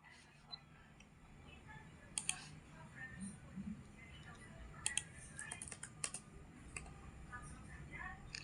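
Keys clatter on a computer keyboard as data is typed in, with scattered bursts of clicks and a few sharper key presses. Soft, low whispering talk runs underneath throughout.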